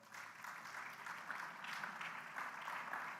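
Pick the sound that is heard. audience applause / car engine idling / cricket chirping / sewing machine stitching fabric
audience applause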